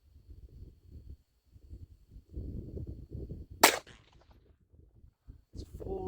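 A single sharp report from a Colt Woodsman pistol, the vintage gun a fire survivor, fired at a steel plate; one crisp crack stands out mid-clip amid quiet rustling and handling noises.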